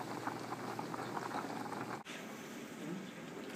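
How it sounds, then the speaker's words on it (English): Potatoes with a little thyme boil away in a pot, a continuous soft bubbling and gurgling that stays fairly quiet and steady throughout, with no one talking. "There you see our potatoes with a little bit of thyme boiling away."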